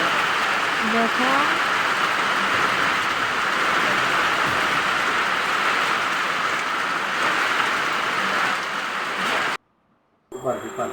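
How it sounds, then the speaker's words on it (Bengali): Heavy rain pours steadily outdoors as a dense, loud hiss for most of the time, then cuts out abruptly before resuming briefly; a voice speaks a word. "বাইরে প্রচণ্ড বৃষ্টি হচ্ছে"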